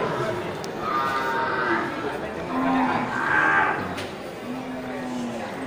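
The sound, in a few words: Aceh cattle at a livestock market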